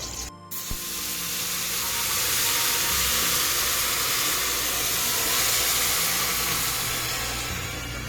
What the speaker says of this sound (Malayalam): സവാള വരട്ടിക്കൊണ്ടിരിക്കുകയാണ്